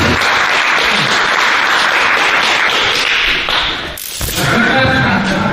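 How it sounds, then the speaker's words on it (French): A crowd at a self-defence reflex workshop claps in sustained, dense applause that runs nearly the whole time, with a brief dip partway before picking back up. "On peut t'applaudir."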